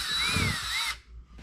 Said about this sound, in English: So that's where I'm gonna drill the hole.